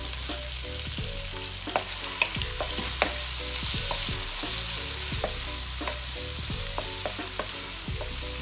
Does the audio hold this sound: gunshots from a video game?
no